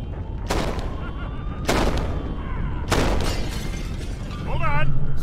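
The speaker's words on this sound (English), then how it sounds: "Explosion sound!" Explosions in the video game Helheim Hassle: three loud blasts about a second apart, each a sharp crack with a rumbling tail over a low background, with a warbling effect at the end.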